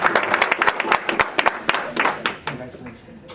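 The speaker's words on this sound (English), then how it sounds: "So let's give them a nice round of applause" Scattered clapping from an audience at a school board meeting, with sharp irregular claps rising and thinning out over a few seconds while a voice talks over it.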